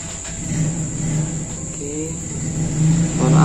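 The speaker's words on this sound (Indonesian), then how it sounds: "Mohon maaf sebelumnya ada suara motor." A motorbike engine drones and revs in the background, rising in pitch and growing louder toward the end, with a steady high insect-like whine throughout.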